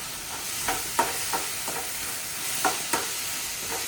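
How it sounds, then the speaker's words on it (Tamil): Tomatoes and curry leaves sauté in a pan for a ridge gourd kootu, giving a steady soft sizzle broken by several brief scraping stirs of a spoon, close and clear with no voices. "நல்லா வதங்குதுங்க"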